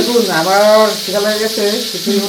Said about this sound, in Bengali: এদিকে আমি ভাজাভুজি করতেছি